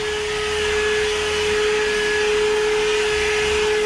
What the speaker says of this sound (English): Vacuum all the dust and hair off of here.